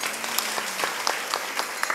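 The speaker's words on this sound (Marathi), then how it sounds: "त्यांच्या नावाने एकदा टाळी झाली पाहिजे" An audience claps together at a Marathi kirtan, with dense, loud, continuous applause and sharp individual claps standing out throughout.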